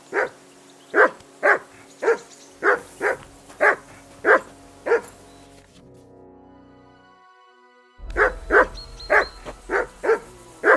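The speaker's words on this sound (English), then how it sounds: "Call off that mutt of yours!" A dog barks repeatedly in Kingdom Come Deliverance 2, a steady series of sharp, evenly spaced barks close by, pausing briefly before the barking resumes just as rhythmically.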